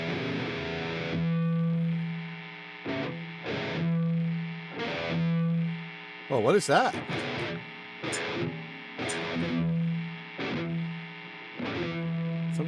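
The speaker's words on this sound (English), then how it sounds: "Something sounds like it's gating and I don't have a gate." An electric guitar played through a Line 6 Helix that sounds gated even though no gate is set, with distorted, sustained notes repeatedly cutting off abruptly in choppy bursts and a brief remark spoken midway.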